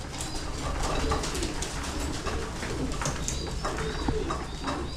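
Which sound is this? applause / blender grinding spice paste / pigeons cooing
pigeons cooing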